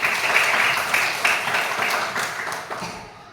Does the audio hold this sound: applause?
yes